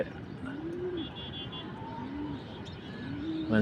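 Pigeons cooing in a home loft in the morning, several soft, rolling coos rising and falling across the clip over a steady murmur of background noise, with no talking.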